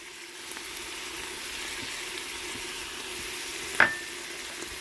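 Garlic hits a hot pan for a cold-weather soup, giving a steady, soft broadband sizzle with faint stirring scrapes and one brief clink near the end.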